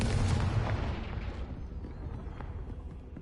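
A Confringo blasting spell goes off in a Harry Potter video game: one loud, booming burst that rolls away into a fading rumble over the next few seconds.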